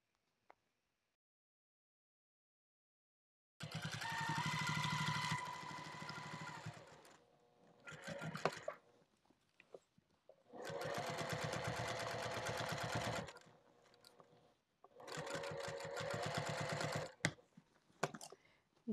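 A sewing machine stitches a sling bag in three long steady bursts of fast, even buzzing, each stopping abruptly, with quiet handling noises and brief clicks between runs and no talking.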